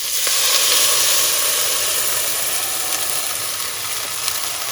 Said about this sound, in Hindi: अब ये जो हमने सॉस वाला मिक्सचर तैयार किया था इसको एक दफ़ा और मिक्स करके ये सारा हम इसमें ऐड कर देते हैं